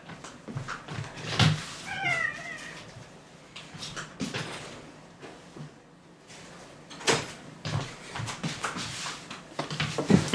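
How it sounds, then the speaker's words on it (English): A cat meows once, close and clear, amid quiet rustling, bumps and knocks nearby. "there's a cat very close to the camera"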